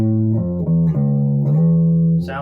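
A Schecter Demon 7 baritone guitar on its clean channel, neck pickup selected and tone knob rolled down, plays a few sustained, dark, bass-like notes in sequence, loud and alone with no talking.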